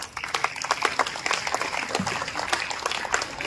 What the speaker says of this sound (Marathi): फक्त त्यासाठी टाळ्या वाजवत त्याला पुढे बोलू आपण